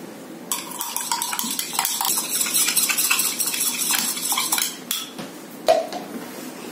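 Lemon salt stirred into a carpet shampoo mixture, a spoon scraping and clinking rapidly against a container, loud and close, in bursts with brief pauses and no talk.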